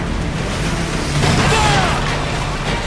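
Ship cannons fire in an Assassin's Creed Black Flag naval battle, a dense, rumbling barrage of booms over a steady roar of wind and sea, with shouted voices in the mix.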